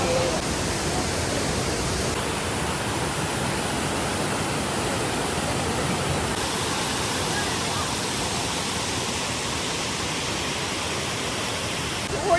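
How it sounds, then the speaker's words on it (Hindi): Abbey Falls waterfall in dense Coorg forest roars as a steady, loud, broadband rush of falling water, constant throughout with no pauses. "तो हम पहुंच गए हैं एबी वाटरफॉल।"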